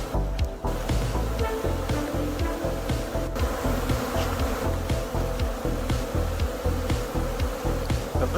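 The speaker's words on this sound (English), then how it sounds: "So many bees in the air." Dense, continuous buzzing of many honey bees flying close in front of a hive during a swarm, a loud steady drone with no speech.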